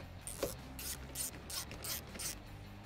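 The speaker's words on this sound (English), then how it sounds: "When you're doing up these four bolts, I like to do the second one across from the first one." A hand ratchet clicking as it tightens the bolts on the hydraulic tank cap of a John Deere 35G mini excavator, a series of quick metallic ratcheting bursts in a steady rhythm, close and fairly quiet.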